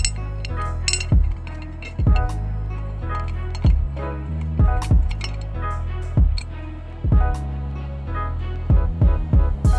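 Bolts being fitted and tightened on the outlet of an Eaton MP45 supercharger, heard as a close series of sharp metallic clicks and ratchet-like ticks in irregular bursts over a steady low hum.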